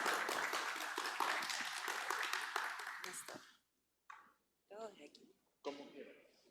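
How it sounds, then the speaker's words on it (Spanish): Audience applause at a photography week talk, dense clapping that fills the room loudly for about three and a half seconds, then stops abruptly before a few short bursts of speech. "Un aplauso."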